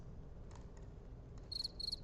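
A cricket chirping sound effect: two short, quick bursts of chirps near the end, faint over a low background hum, with no voices.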